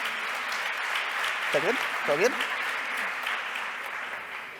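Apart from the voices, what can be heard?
audience applause for panel members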